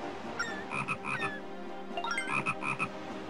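Frog croaking in the video game Zelda Phantom Hourglass, two short bursts of rapid repeated croaks separated by a pause, clear and fairly quiet against a faint game background.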